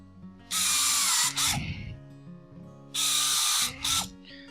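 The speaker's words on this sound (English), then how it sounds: "Slide the box to the other side of the assembly table and pre-bore it for our screws with a number 6 countersink." A power drill with a number 6 countersink bit pre-bores screw holes in a cabinet box on an assembly table, giving two loud close whirring bursts, each ending with a brief clatter.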